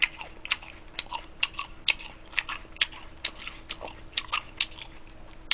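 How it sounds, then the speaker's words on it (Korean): Crunchy onion from a late-night Korean takeout meal of sweet and sour pork, jjamppong-jjajang noodles and fried dumplings is chewed close up, producing a steady run of crisp, wet crunches and bites in an irregular rhythm. "양파가 아주 아삭아삭하니 아주 그냥 매콤달콤하니"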